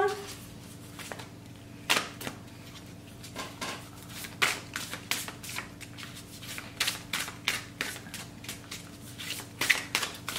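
Oracle cards shuffled and drawn during a French energy-reading session: repeated soft papery riffles and sharp card slaps spread across the whole stretch, close and fairly quiet, with no talking.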